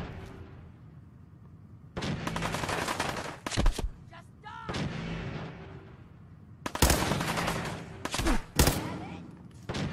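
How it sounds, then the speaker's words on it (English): Enemy gunfire in the video game Fallout 4, loud bursts of rapid automatic shots in two clusters with short gaps and sharp single cracks between them. "Oh, he's shooting me."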